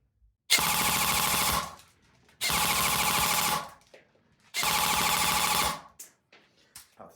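A G&G airsoft replica fitted with a Perun ETU++ mosfet fires three close, loud bursts of full-auto fire at a rapid, even rate, each lasting about a second, separated by short pauses.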